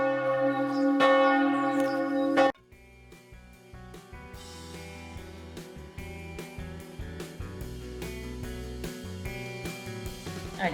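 Church bells ring from a church near a vegetable garden, loud and sustained at first, then continuing as a fainter, steady chiming in the background.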